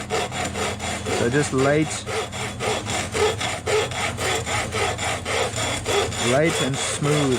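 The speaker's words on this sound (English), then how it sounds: "We're gonna cut it with this hacksaw here." A hacksaw cuts through a part on a 1970 RV U-Haul conversion, making steady back-and-forth rasping strokes in an even rhythm, close and fairly loud, with someone speaking briefly over the sawing.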